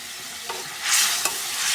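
Fried potatoes go into a spice paste of ginger, cumin and black cumin sizzling in oil, with a sharp scrape of stirring and a sudden rise in frying hiss.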